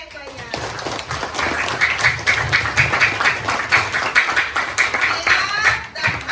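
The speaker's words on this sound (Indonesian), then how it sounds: "Tepuk tangannya yang banyak." A class of students claps together in a classroom, producing a dense, sustained, fairly loud patter of hand claps that continues for several seconds at an even level.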